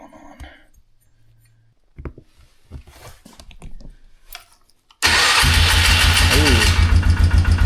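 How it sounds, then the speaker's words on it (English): Polaris Magnum 330 ATV with a hard-starting fault catches and starts after quiet fiddling and brief talk, then idles loudly and roughly close by with a pulsing rhythm. "crank the idle up a little bit"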